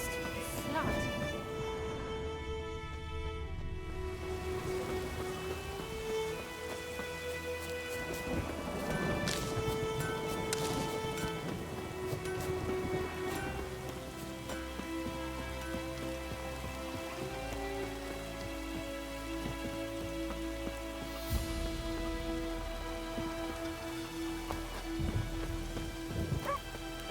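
Steady rain in the video game The Witcher falls continuously over a bed of sustained musical tones, with brief stretches of clattering and a voice in the middle.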